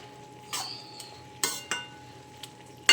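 A few sparse clinks and scrapes of a utensil stirring bottle gourd curry in a pan, with quiet gaps between the knocks and a faint low hum behind.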